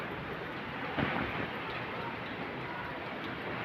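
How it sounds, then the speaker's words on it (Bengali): Heavy rain falls outside in a dense, unbroken roar of steady hiss, even and fairly loud for the whole stretch, with no talking. "প্রচণ্ড হারে বৃষ্টি হচ্ছে"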